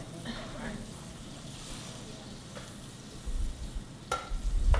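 Yellowfin tuna sears in a hot pan with a constant sizzling hiss, while brief clinks and handling knocks break in near the end.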